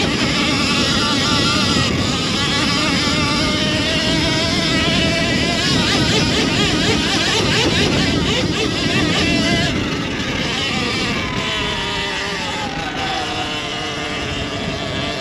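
A Sur-Ron Ultra Bee electric motorbike climbs a hill at full throttle, its motor whining with shifting tones and strong wind rush on the microphone throughout, loud and close.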